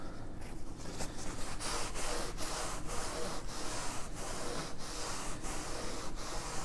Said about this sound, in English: We are going to be taking a piece of paper towel, and we will rub our stain on like so.